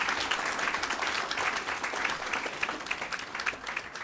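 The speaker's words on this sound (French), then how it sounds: "ils méritent des applaudissements pour s'encourager" Sustained applause from a studio audience at a televised startup pitch competition, dense and even clapping filling the whole stretch without talk.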